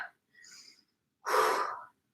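Breathing during an isometric workout: a soft inhale through the nose, a short silence, then a louder, breathy exhale through the mouth, close and alone.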